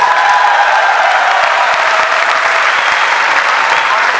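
Loud, sustained applause from a large audience at an RCM Next Generation business event, a thick continuous wash of clapping with faint crowd noise underneath, close and even throughout.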